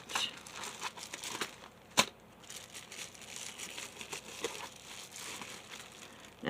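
A package of cellophane craft flakes crinkles and rustles in close, irregular handling, with one sharp crackle standing out among the soft, continuous crumpling.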